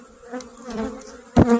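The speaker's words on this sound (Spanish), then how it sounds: "Aquí tenemos el zángano, ¿vale?" Honeybee drone buzzing at a hive in a newly installed apiary, a steady close hum that swells loudly near the end.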